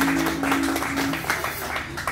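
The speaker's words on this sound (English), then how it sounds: "And I noticed you clap" Brief audience clapping at a political gathering on Grand Bahama, a short burst of scattered claps from a crowd with a hum in the background.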